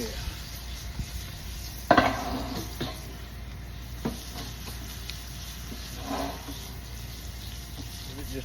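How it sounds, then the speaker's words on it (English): Butter simmers and sizzles in a pan over a wood fire for a steak dinner, a faint continuous crackle with a few sharper clinks and stirring bursts, fairly quiet and with no talking. "Look at simmering all this butter"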